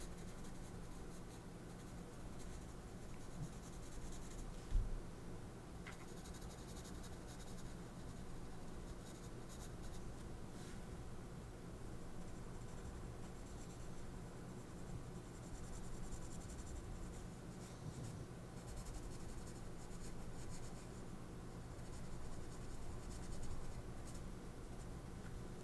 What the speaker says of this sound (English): now I think I will take the pencil and just add a little shading on